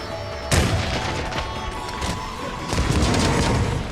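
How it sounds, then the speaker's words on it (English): Heavy bowgun fire in the video game Monster Hunter: World, loud booming explosive shots with a sharp blast near the start and heavier rumbling bursts later, each trailing off in crackling debris. "Utilising machine gun fire, mortar attacks, and even sniper-like explosive rounds."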